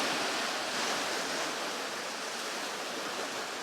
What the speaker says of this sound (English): you can see the waves are not that bad right now